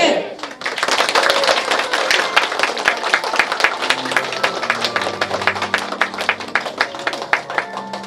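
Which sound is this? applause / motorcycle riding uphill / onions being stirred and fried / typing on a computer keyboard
applause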